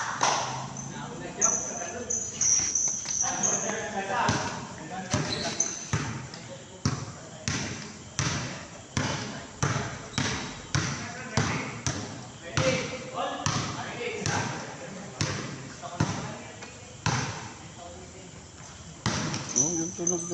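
A basketball is dribbled on an indoor court during a game, with steady, rhythmic bounces repeating throughout. People talk and call out over the bouncing.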